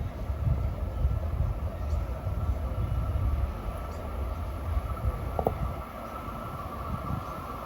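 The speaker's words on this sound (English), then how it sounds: "coming east at 5:57, this should be train 1730, New York to Huntington" An eastbound Long Island Rail Road train runs from New York to Huntington near Jamaica and Hollis, a continuous low rumble and rolling rail noise with a faint high whine, heard from a moderate distance.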